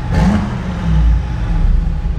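Deep, rumbling engine rev from a Mercedes G800 Brabus G-Wagon, a low throaty swell that rises, dips and surges again over two seconds, close and fairly loud.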